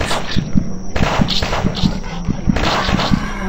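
Dual pistols fire in the zombie shooter game Zombocalypse: sharp gunshots in a steady, alternating rhythm, about eight shots over a few seconds, loud and close, with no talk.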